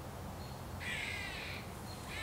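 A squirrel squawks from a nearby tree outdoors, a harsh raspy call rising above steady background noise for about a second, then returning briefly at the end.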